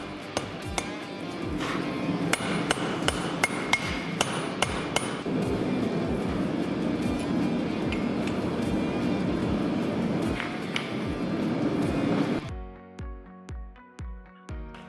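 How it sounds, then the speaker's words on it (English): A blacksmith hammers a rivet buck on an anvil, with sharp metallic strikes ringing in steady rapid succession over a loud workshop background. A few slower, clearer ringing blows follow at the end. "Look at that, left-handed hammering,"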